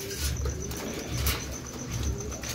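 Pigeons cooing in a loft at night, soft repeated low coos in a slow rhythm close by, with a faint high steady tone in the background and a brief flutter.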